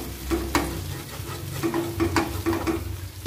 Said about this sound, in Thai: มื้อนี้ทอดแหนม